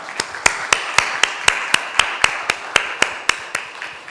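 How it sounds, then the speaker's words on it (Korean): A church congregation applauds during a Sunday worship service, an even, rhythmic clapping of about two beats a second, steady and moderately loud, with no speech over it. "이들을 위해서 박수를 한번 하겠습니다"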